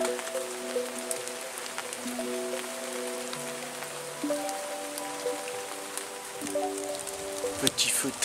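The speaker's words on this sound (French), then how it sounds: "Et avec la pluie battante" Heavy rain beats down steadily throughout, a dense continuous patter beside a small campfire, with someone speaking over it in the foreground.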